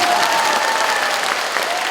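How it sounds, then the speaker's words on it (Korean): Concert audience at a cultural hall performance breaking into loud, dense applause, a continuous wash of many hands clapping with a faint tone running beneath it. "박수가 나와요"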